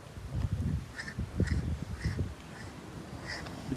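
Crows caw outside in the open, harsh calls coming in repeated bursts spaced about half a second apart over a rumbling, low background.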